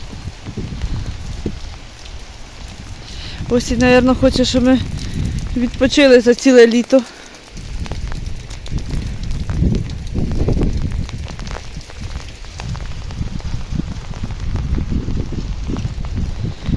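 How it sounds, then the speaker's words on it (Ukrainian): Steady rain falls on a cloudy day, a soft, constant hiss and patter under a voice. She talks over most of it, and the rain carries on alone in the pauses. "хмарно, дощ шурує."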